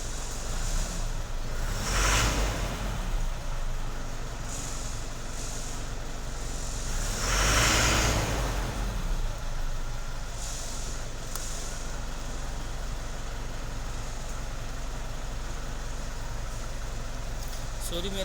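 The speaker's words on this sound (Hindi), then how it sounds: "अभी मैं गाड़ी स्टार्ट कर रहा हूँ।" A Pro 2095XP truck with an accelerator pedal problem idles after being started, giving a steady, loud, low diesel drone with two brief swells in revving partway through.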